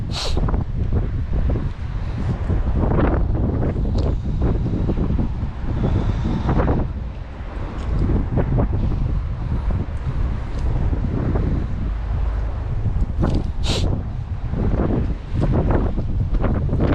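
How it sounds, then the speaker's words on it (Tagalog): Steady wind gusting across an outdoor microphone, a continuous rushing roar with faint splashy bursts, no voices. "Simoy ng hangin."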